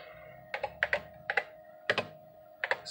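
Keys clack on the keyboard of a vintage Osborne Executive computer, close and crisp, in short bursts of two or three strokes separated by brief pauses, with no talking.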